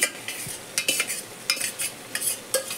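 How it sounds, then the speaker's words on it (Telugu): A spoon scrapes and clinks through broad beans curry with green chili paste in a pan, in short irregular strokes of about a dozen stirs, close and fairly soft with faint sizzling underneath and no talking. "మొత్తం వేసేసేసుకొని బాగా కలుపుకుందాం."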